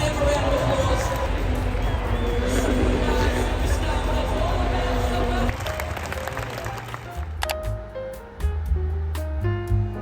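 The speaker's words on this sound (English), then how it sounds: "Give them a round of applause." A large crowd applauds and cheers for racing drivers Sebastian Vettel and Michael Schumacher at the Race of Champions, a loud, dense roar that thins out after a few seconds into scattered clapping and crowd noise.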